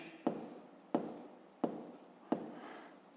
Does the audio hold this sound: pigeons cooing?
no